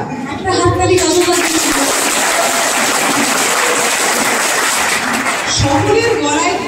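Audience applause for an organiser at a Bankura gathering, a dense steady burst of clapping lasting several seconds, loud and close, with voices at the start and end.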